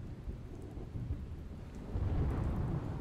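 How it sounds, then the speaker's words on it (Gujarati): Heavy rain and rolling thunder from a cyclone storm over Deesa in Banaskantha, Gujarat, a dense continuous low roar that swells louder toward the end, with no voices. "બનાસકાંઠાના ડીસામાં પ્રચંડ વાવાઝોડા સાથે વરસાદની અસર."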